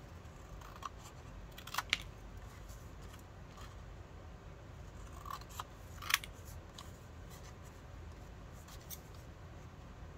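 Scissors snipping through craft material: a few faint, sharp cuts in small clusters against a quiet room hiss, with a more distinct snip near the middle.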